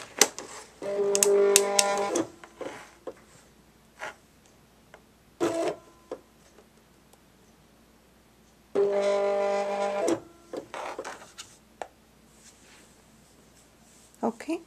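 Cricut cutting machine slicing craft foam with pressure set to maximum, heard in two bursts of steady mechanical buzzing separated by quieter clicks and ticks, fairly close with no voice over it.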